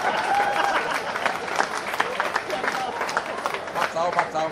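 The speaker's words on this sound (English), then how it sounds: "clap lah." Scattered audience clapping at a talk about the Bersih demonstration, uneven bursts of hand claps rising and falling, with crowd murmur and talking underneath.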